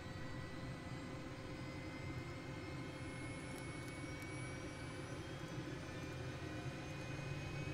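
Simulated jet engine spooling up in Microsoft Flight Simulator, a steady loud broadband roar with a thin high whine held throughout, no voices.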